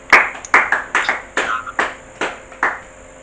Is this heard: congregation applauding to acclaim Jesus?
yes